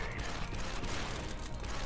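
Grenade blasts and gunfire from the Star Wars: Republic Commando video game form a dense, loud, continuous din of battle noise, with no clear speech.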